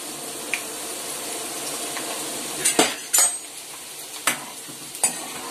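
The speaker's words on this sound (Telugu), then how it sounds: "ఇప్పుడు ఇందులోకి ఎండుమిరపకాయలు కూడా వేసేసుకుందాం. తర్వాత ఆవాలు," Dried red chillies and mustard seeds frying in hot oil in a pan, a steady close sizzle with several sharp metallic clinks and scrapes of a spoon stirring against the pan.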